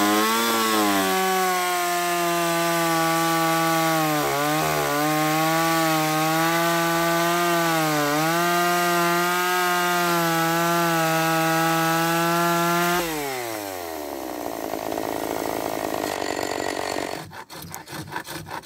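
A Druzhba two-stroke chainsaw fitted with a 4/4 chain cuts through wood, its engine roaring steadily and close for a long stretch with slight dips under load, then dropping in pitch and sputtering near the end.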